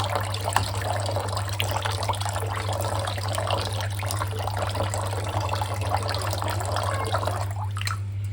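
Tap water runs steadily while raw mutton pieces are rinsed to wash out the blood, a continuous close splashing wash with a low constant hum underneath.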